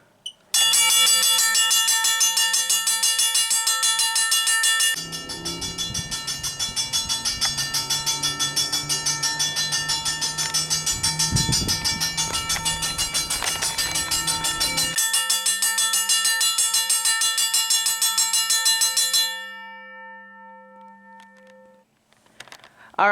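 A mechanical railroad crossing bell with a gong rings in a rapid, steady, loud metallic clang that runs for nearly twenty seconds, with a deeper mechanical rumble mid-run, then stops and rings out alone.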